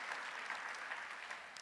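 A church congregation claps steadily in response to a sermon, a dense, even wash of many hands applauding together throughout, with no speech over it.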